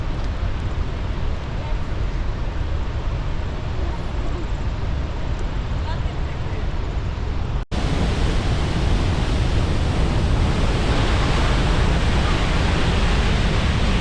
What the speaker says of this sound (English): This is Horseshoe Falls.